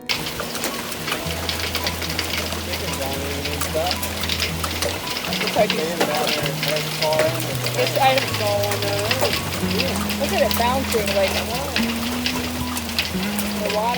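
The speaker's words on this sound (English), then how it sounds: "That night, as we were getting ready to head to church, a hailstorm blew in." Small hail and rain from a night hailstorm make a steady, dense hiss with scattered sharp ticks, running under music and a voice the whole time.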